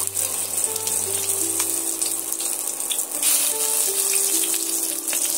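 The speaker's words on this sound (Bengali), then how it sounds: "এবার আমি আগে থেকে যে পেঁয়াজের আদা রসুনের পেস্টটা করে রেখেছিলাম এই তেলের মধ্যে আমি দিয়ে দেব।" Onion, ginger and garlic paste sizzling in hot oil for an egg omelette curry, a steady, dense hiss and crackle that holds close and loud throughout, with faint tonal music underneath.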